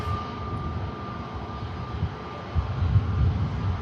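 An ATR turboprop airliner on short final approach into Manchester Airport drones steadily at a distance, a low engine rumble with a faint tonal hum that swells slightly toward the end.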